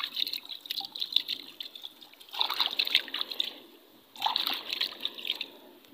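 Water splashing and trickling over a large quartz stone found beside a road as it is rinsed, a steady wet patter rising and falling in several bursts outdoors.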